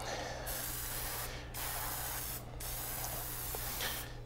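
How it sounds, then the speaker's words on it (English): Three long bursts of a spray gun hissing onto cardboard, each about a second, separated by short pauses, over a steady low hum. "we're going to test the spray on a piece of cardboard"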